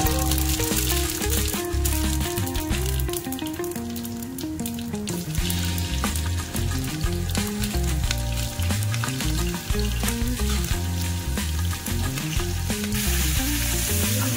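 Bay leaf, cinnamon, star anise and fennel seeds sizzling in hot ghee make a loud, continuous crackling hiss, heard under steady background music with no speech.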